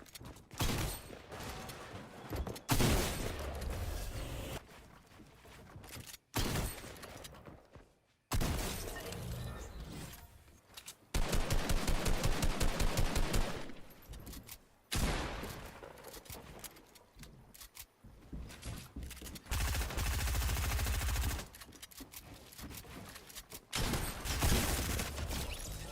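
SMG gunfire in the Fortnite video game, rapid bursts of shots in several separate volleys with pauses between them, loud and close amid other game effects.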